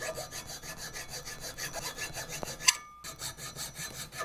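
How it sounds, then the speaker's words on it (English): A hand file rasps off a small rivet on a garden tool in quick, even back-and-forth strokes that sound close and moderately quiet. A sharp metallic click breaks in, the filing pauses briefly, then it resumes with no talking. "the first step is to take off the little rivet. And for that, we use a file."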